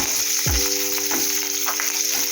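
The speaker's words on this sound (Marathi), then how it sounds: "मिरची जरा तळली गेली पाहिजे चांगली." Green chilies frying in hot oil for a sweet potato fasting dish, a close, steady sizzle with a brief stir or scrape near the start, no talk.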